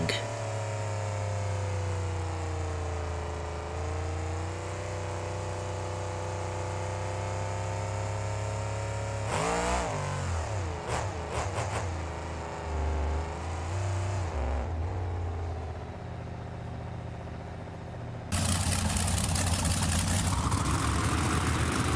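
A monster truck engine in BeamNG Drive, the Sting tribute truck at a monster truck show, idles with a steady low rumble, then revs in uneven bursts midway and roars louder near the end.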